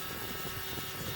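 A wind sensor from a sun tracker spins freely after a flick, producing a faint, steady whirring hum that carries on without a break for the whole moment.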